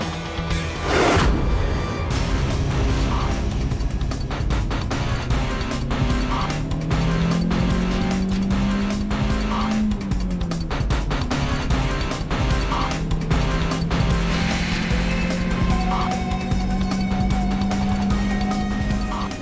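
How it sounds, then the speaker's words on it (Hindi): A vintage car drives slowly with a steady engine rumble that rises and shifts in pitch over a long stretch, surrounded by busy street noise and other passing traffic. "ये विंटेज कार है, स्लो ही चलती है।"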